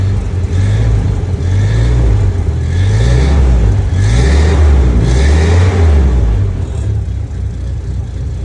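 A 1946 Willys CJ2A engine runs loud and close for the first time in decades, a steady low rumbling idle that swells in slow rising and falling surges before easing slightly near the end.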